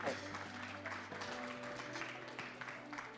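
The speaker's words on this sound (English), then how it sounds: "Please, another round of applause." An audience at a national ICT summit claps in steady, sustained applause, heard faintly from a distance in a large hall.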